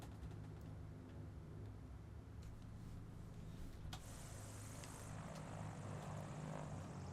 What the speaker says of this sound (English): A very whistly, twiddly engine in this one.